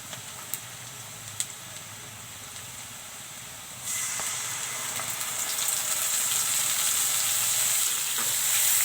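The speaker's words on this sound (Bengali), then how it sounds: "মশলাটা একটু কষিয়ে নেব" Spice masala frying in hot mustard oil for a fish curry, starting with a quieter sizzle and a couple of sharp utensil taps, then swelling into a loud, steady hissing sizzle.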